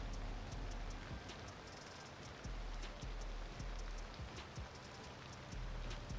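Rain falling in the city-building game Cities: Skylines II, a steady soft hiss of rainfall with scattered sharper drop ticks and occasional low gusts, faint and continuous.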